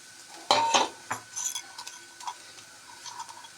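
Spoon scraping and stirring grated coconut and cooked rice in a pan for cucumber rice, a few close clinks and scrapes at first, then softer intermittent stirring sounds.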